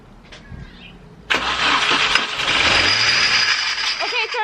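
Mini Cooper R53 JCW engine cranking and catching, then settling into a loud, rough idle with a harsh rattling whine from a noisy idler pulley, close up, with people talking briefly over it.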